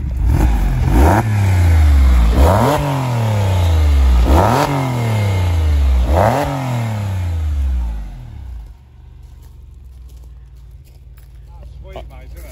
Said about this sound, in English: go on, give it a little rev